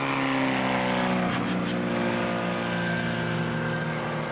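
A Moorland Formula Junior racing car howls loudly and steadily past at Mallory Park during an Elva anniversary race, its engine note holding a high, sustained drone with a slight pitch shift as it passes.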